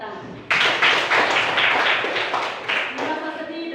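Students in a classroom clap their hands together in a quick, irregular burst of claps that starts suddenly and carries on close by, mixed with a few voices.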